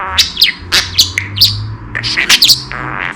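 A pet bird chirps and calls close by in a rapid string of loud, sharp tweets and squawks over a low steady hum.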